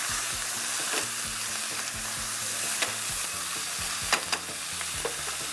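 Onions and spices sauté in a pan with a steady, even sizzle, broken by a few faint scrapes and stirring taps, beneath a low repeating hum in the background.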